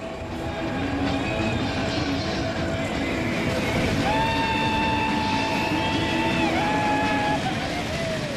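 A Class 37 diesel locomotive hauls a passenger train, its engine roaring steadily, and halfway through a tonal horn-like whine rises and holds over a constant rumble of wheels on rail.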